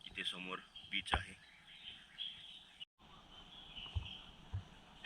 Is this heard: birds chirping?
yes